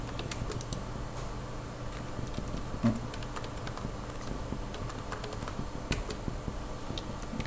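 Steady, soft computer keyboard typing in close-up, a run of light irregular key taps with a slightly firmer press of the Enter key standing out near the middle, no talking.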